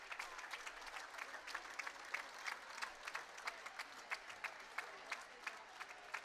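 Crowd at a girls' high school basketball game applauding and cheering during a timeout, a continuous wash of many hands clapping with scattered whoops, heard from a distance at low level.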